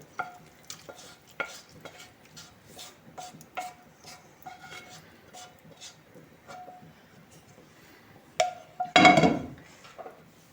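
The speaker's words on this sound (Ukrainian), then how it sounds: "Перемішали найсмачніший весняний зелений борщ" A spoon stirring green sorrel borscht in a pot, with soft repeated scrapes and light clinks in an irregular rhythm, ending in a louder clatter.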